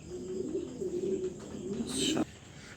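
A pair of black checker pigeons gives soft, low cooing calls close by, ending in a brief flutter or rustle.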